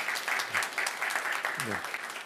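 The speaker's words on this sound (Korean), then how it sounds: "박수 한번 해주십시오" A church congregation welcomes a newly installed minister during Sunday worship with soft, scattered applause, heard fairly faintly beneath a voice speaking over it.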